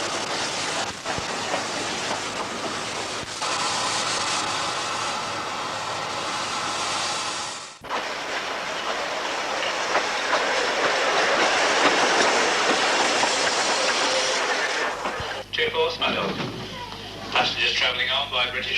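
A Ffestiniog Railway train running into the joint station at Blaenau Ffestiniog in the mid-1980s, with a steady rumble and rail noise close by. Mid-clip there is a sharp cut, and a voice narrates over the train.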